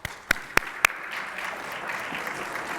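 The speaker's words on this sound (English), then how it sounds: "I said hold the applause and then I applauded" Applause from an audience at a national faculty business meeting: a few sharp, close hand claps at the start, then a soft, distant patter of clapping from the room.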